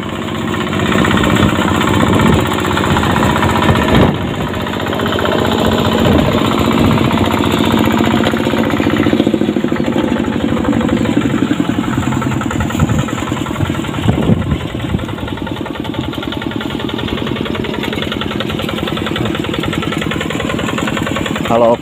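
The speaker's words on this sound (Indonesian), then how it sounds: "Kalau pakai mesin traktor begini," A tractor engine works a rice paddy in a rural village, chugging loud and steady with a rattling mechanical pulse throughout, close by and nearly unbroken, with faint talk now and then underneath.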